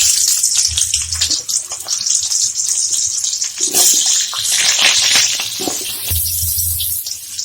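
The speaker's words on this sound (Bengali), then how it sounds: "মাংসের আলুগুলো একটু অল্প পরিমাণে ভেজে নেবে।" Potatoes for a meat dish frying in hot oil in a pan give a loud, steady, hissing sizzle that runs without pause, with no voices.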